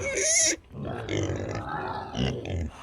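Kune Kune pigs in a hay-bedded barn give a burst of snuffling grunts, first a sharp loud squeal-like grunt then a steady run of low, rough grunts with a couple of louder bursts near the end.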